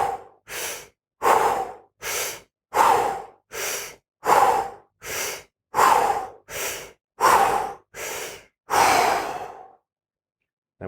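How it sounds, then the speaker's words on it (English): Deep, continuous belly breathing during a guided meditation, about a dozen evenly spaced breaths, close and clear, each a breathy rush with brief gaps between, no talking. "breathing really deep into the belly, getting a really full breath, and the breaths are deep and continuous"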